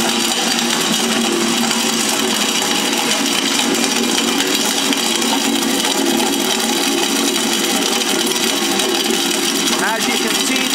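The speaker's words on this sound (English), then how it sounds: "Now these are the native black walnuts of Nebraska" A Patriot 600 industrial nut cracker working through native Nebraska black walnuts gives a loud, continuous mechanical roar and clatter that holds steady without a break for the whole stretch.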